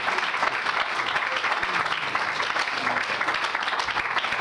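An audience applauds steadily throughout a gospel preaching event, with dense, continuous clapping close by and no break.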